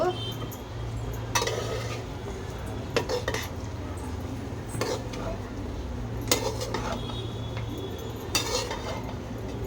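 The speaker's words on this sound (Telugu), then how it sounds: "ఒకవైపు నుంచి నీట్గా నిదానంగా కలుపుకోవాలి" A spoon moves gently through chicken fry piece biryani rice in a pot, making repeated soft scrapes and light clinks against the metal at an unhurried pace over a steady low stove hum.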